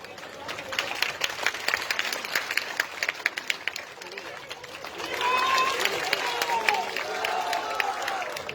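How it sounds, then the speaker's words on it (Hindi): Crowd at an outdoor election rally in Laxman Kuti, Damoh, applauding a visiting leader. The clapping is moderate and continuous, mixed with crowd noise, and swells in the second half. "पीछे ताली बजाओ तो सब पूरी ताकत से जोरदार ताली बजा महाराज का स्वागत करो।"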